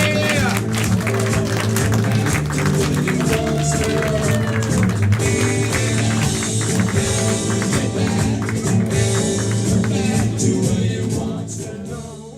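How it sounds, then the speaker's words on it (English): Live event audience applauding as players return to the stage, sustained dense clapping and crowd noise with scattered cheers, while a voice talks over it before the applause fades at the end. "Clap, everybody."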